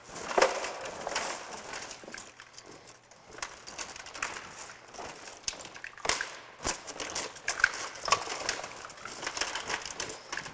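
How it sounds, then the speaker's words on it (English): Car window glass being broken out and cleared during a vehicle extrication, heard as a series of sharp crunching, splintering cracks and scraping clatters spread irregularly over several seconds at moderate distance. "we want to remove as much of this glass as possible"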